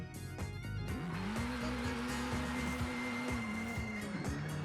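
Honda Type R engine in the racing video game Forza Horizon 5, a steady droning rev holding one pitch as the car drives, loud and continuous with faint tire noise.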